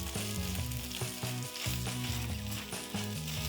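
Kimchi fried rice sizzles in a hot pan as it is stirred, giving a steady, close frying hiss that runs throughout, with a tonal, melodic background sounding beneath it.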